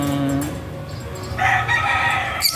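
A chicken calls in a few loud, close, harmonic bursts, with a brighter, higher cry near the end and no voices.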